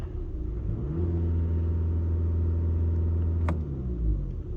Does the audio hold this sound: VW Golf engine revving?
yes